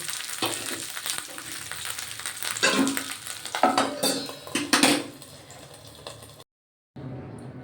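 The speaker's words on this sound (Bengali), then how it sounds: "পরের যে দুটো ছিল সেই দুটোকেও আমি একইভাবে তেলে দিয়ে দেবো, দিয়ে ভালো করে চাপা দিয়ে উল্টে পাল্টে" Prawns wrapped in bottle gourd leaves fry in hot oil, crackling loudly and steadily up close with scrapes and clinks of a utensil against the pan, then a short silence before the sizzle resumes.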